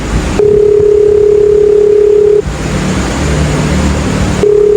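A telephone line's electronic ringing tone in a Jamaican action drama: one steady, loud two-second pulse, then a long pause before the next pulse begins, over a low background rumble.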